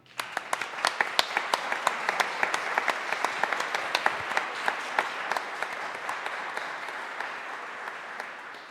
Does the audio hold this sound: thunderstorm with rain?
no